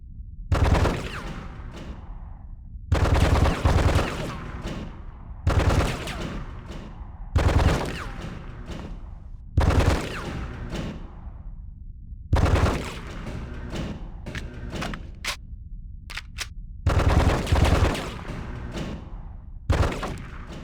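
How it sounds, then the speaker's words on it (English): Gunfire at a police training shooting range in the Die Hard: Vendetta video game: loud, close bursts of rapid shots repeat every two to three seconds, with brief pauses between volleys and no talking. "Excellent shooting, John."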